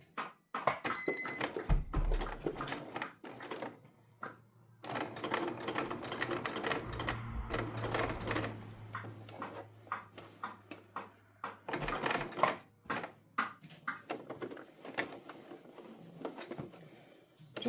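A sewing machine stitches a tote bag in stretches of steady mechanical whirring, broken by short pauses and a few soft clunks. The machine sounds close, and no one talks.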